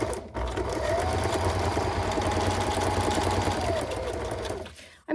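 An older, noisy machine chatters steadily while it forms paper clip chains, a fast even mechanical whir and rattle held for about five seconds before it stops abruptly.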